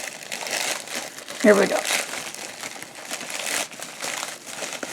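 A mail package is cut open and its wrapping crinkles and rustles steadily up close, with a brief sharp snip partway through, while a person talks briefly over the handling.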